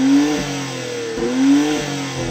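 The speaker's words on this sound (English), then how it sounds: "rev up your BMW" A twin-turbo V8 BMW SUV at a standstill is revved hard twice against a soft limiter, each rising roar falling back before the next, loud and close with no talk.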